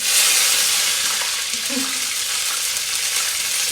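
Çiğ börek frying in a pan gives a loud, close, continuous hiss and sizzle of hot oil, with a brief soft bump partway through as a piece is flipped to cook the other side.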